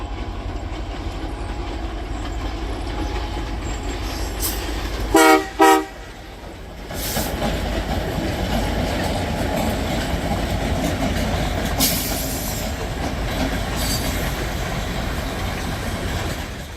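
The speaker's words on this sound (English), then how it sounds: "Here it is seen with an SD30C Eco and GP38-2 on point, heading east over the Highway 21 overpass in Nevis," A CP freight train led by an SD30C Eco and GP38-2 rumbles east over a highway overpass in Nevis, Alberta, with a loud steady roar of locomotives and wheels, two short horn blasts, and rolling cars continuing after.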